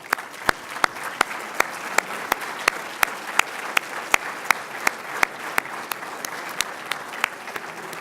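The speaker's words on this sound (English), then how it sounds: "please stand and give them a round of applause" An audience at a reception claps for standing trustees, a steady wash of applause with sharp, evenly spaced loud claps from one nearby person cutting through the crowd sound, continuing throughout.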